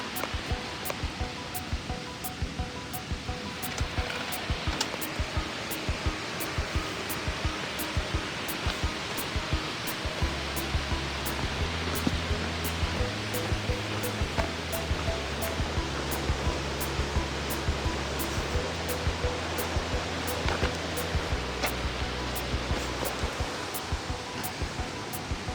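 A river flows steadily along Stevens Trail, a broad continuous rush of water, with a low tonal hum entering partway through beneath it.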